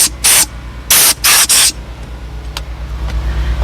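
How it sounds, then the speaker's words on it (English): Several quick hissing bursts of a spray bottle spraying cleaner on a car interior's cup holders, close and loud, followed by a low steady hum in the background. "I will spray it just a little bit, cup holders"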